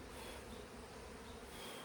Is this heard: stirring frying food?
no